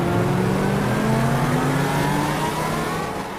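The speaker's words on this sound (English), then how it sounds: "The engine roared to life as they sped through the streets" A car engine roars and accelerates through city streets at night, its pitch climbing steadily as it revs, loud and continuous throughout with no voices.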